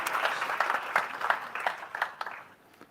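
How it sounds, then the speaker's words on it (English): Audience applause at a food industry conference, moderately loud clapping with distinct individual claps that thin out and fade toward the end. "A big round of applause."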